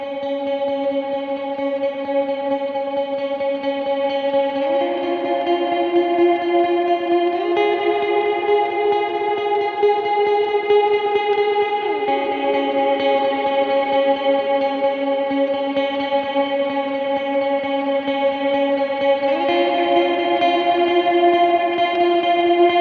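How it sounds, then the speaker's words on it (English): Sustained electric guitar chords from a lead guitar part for a song ring out with heavy reverb and delay, slowly shifting pitch in a washy, ambient wall of sound. "I would probably use pretty heavy reverb and delay during this part"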